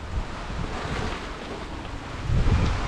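Strong typhoon wind roars and buffets the microphone, with a broad rushing wash of rain underneath and heavier gusts toward the end.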